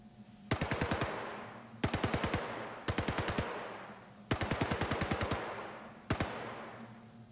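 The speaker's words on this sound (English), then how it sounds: "The sound of different weapon fire also changes as you move to differing environments." Automatic weapon fire from Star Citizen's Star Marine, five loud bursts of rapid shots, each burst followed by a ringing reverberant tail, separated by short pauses.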